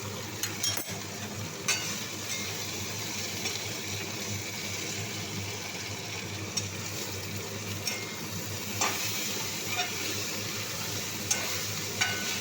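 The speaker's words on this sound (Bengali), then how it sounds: "ঢেঁড়স আলুটা একটু নেড়ে দিই।" Okra and potatoes frying in a bent wok, heard as a low, constant sizzle under occasional scraping and clinking from a stirring utensil, fairly faint and close.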